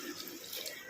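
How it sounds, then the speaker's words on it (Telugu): Water runs steadily into a pot of soaked rice for biryani, a continuous close pouring rush with no voices. "ఇప్పుడు దాంట్లోకి తగిన నీళ్ళు పోసుకుందాం"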